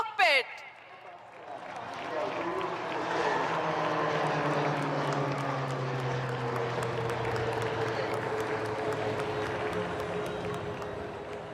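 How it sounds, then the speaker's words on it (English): An HTT-40 trainer aircraft flies in an aerial display at an Indian Air Force air show on Marina Beach, Chennai, a propeller drone building and holding at moderate level while an announcer talks over it and a crowd murmurs. "is the HTT-40 aircraft for the first time ever in an aerial display"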